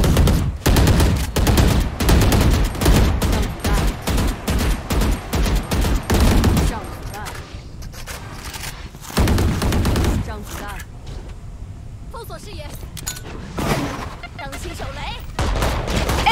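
Loud, rapid bursts of Stinger gunfire from Valorant Mobile rattle off in dense volleys, pause, then resume in shorter sprays.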